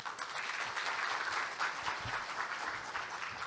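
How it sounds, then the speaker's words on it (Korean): Applause from the audience at a Korean scientists' conference, a continuous even rush of many hands clapping at moderate distance, fairly soft but sustained throughout. "박수를 보냅니다"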